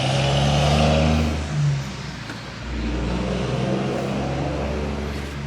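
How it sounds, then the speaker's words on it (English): A big truck rolls past on a nearby road, its engine loud and droning as it shifts gears partway through, with the rumble dipping and then building again. "Ooh, big truck. Hold on. Shifting gears."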